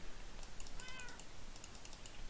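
A cat meows once in the video game Minecraft, a short, faint, rising mew set against a soft, steady clatter of computer keyboard typing.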